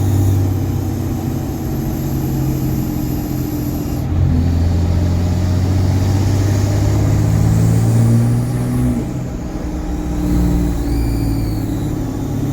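A Cummins engine with a leaking manifold runs close by, its deep rumble holding steady while a high squeal rises and shifts above it across several revs.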